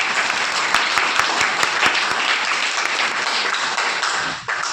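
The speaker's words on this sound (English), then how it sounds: "So give a round of applause." Classmates applaud the winner of a school class minister election, loud close clapping with distinct individual sharp claps over a steady crowd patter, dipping briefly near the end.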